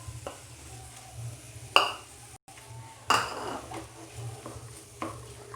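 Boiled potato mashed and stirred in a bowl for veg cutlet mix, soft scraping and stirring with a couple of sharper utensil clinks against the bowl, quiet and close.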